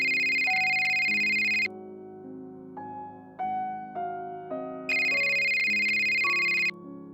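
Phone ringtone from the Scott Whiskers in the Search for Mr Fumbleclaw video game: two loud, bright electronic rings separated by a gap filled with a melodic synth tune, no voices.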